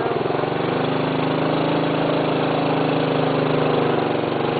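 A motorcycle engine drones steadily and loudly at close range while straining uphill, a continuous labored rumble with no talking.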